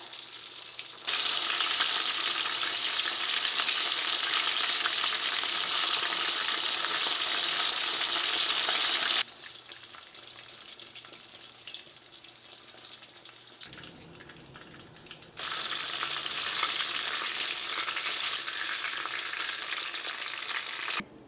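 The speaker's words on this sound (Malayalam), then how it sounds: "ഇപ്പോൾ ചിക്കൻ്റെ ബോളെല്ലാനും വറുത്തെടുത്തിട്ടുണ്ട്" Chicken lollipop balls deep-frying in oil, a loud steady sizzle in two long stretches separated by a quieter bubbling interval, with no voices.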